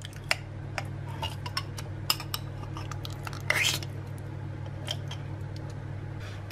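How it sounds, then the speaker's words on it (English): A whisk scraping and clinking against a bowl as marmalade is beaten into chocolate orange cake batter, with irregular light ticks and taps and a brief squishy flurry midway over a steady low hum. "And whisk that in."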